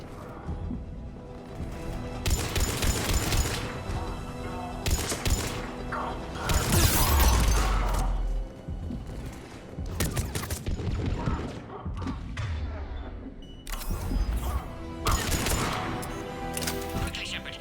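Gunfire in the video game Mass Effect 3, rapid bursts of shots and clattering impacts coming in repeated waves with short lulls, mixed with voices talking over the battle.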